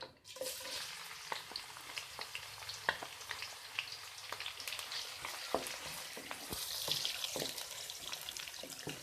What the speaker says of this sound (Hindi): तेल हमारा गर्म हो चुका है। अब इसमें प्याज डालेंगे और फ्राई करेंगे।